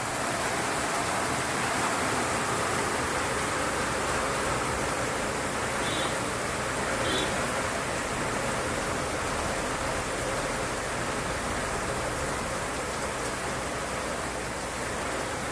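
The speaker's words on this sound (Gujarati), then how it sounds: "તો મિત્રો ધોધમાર વરસાદ ચાલુ છે." Heavy monsoon rain pours down during a July downpour with rivers running in flood, a dense, even roar of water that stays loud and constant throughout.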